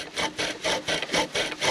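A bow drill spindle grinds against a wooden fireboard to make fire, sounding as rhythmic back-and-forth rasping strokes, about seven close, even pulses with no talking.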